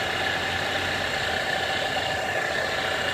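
A car engine idles steadily during a power steering pump and serpentine belt replacement, its belt running with the reservoir open, a constant broadband hum and whir with no talk.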